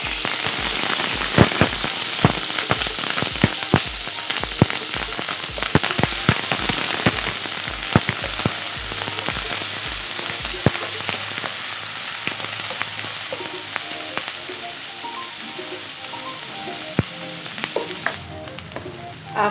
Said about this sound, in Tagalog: mag-add tayo ng konting oil. So, ngayon guys, maglalagay tayo ngayon ng turmeric